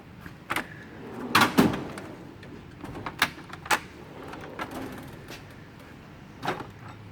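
A wrench drawer on a Snap-on EPIQ tool box sliding open, with a rattling metallic clatter and several sharp clicks and knocks spread irregularly over several seconds, close by and fairly loud.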